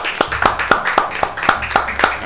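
A small group of people clap in a regular rhythm during a radio interview, sharp evenly spaced claps close by, roughly eight beats in quick succession.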